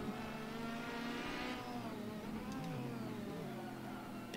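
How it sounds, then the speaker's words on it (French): A Ginetta G55 GT3 racing car with a Nissan V8 engine revs hard in the Assetto Corsa racing game, the engine note rising and falling continuously at a fairly low level, with no talk heard. "on entend hurler notre V8 aux côtés de celui de la Mercedes"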